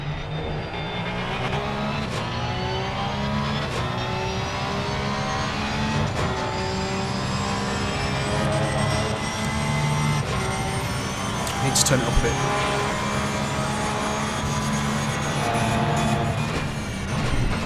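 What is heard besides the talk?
Porsche race car engine in a sim racing video game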